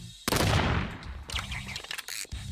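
Gun firing in the Roblox game Blox Fruits, a burst of sharp shots followed by a few quicker cracks, close and punchy, with no talk over it.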